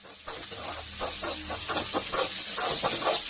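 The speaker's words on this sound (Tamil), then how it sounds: "அதில் கட் பண்ணி வச்சது போட்டுட்டு நல்லா வணக்கணும், செவந்து வரணும்" Chopped ingredients sizzling in hot oil in a home kitchen, a continuous bright hiss with rhythmic crackling pulses as they are stirred, steady and close.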